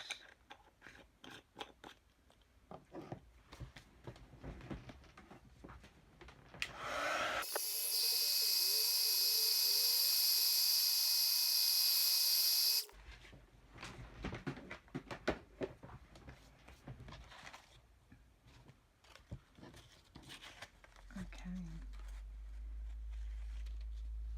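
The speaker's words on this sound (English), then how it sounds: "now I'm just going to heat emboss that" A heat gun blows a loud, steady hiss for about five seconds while heat embossing a paper page, then cuts off abruptly, leaving quieter handling noises before and after.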